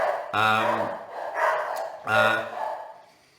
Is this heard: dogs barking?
yes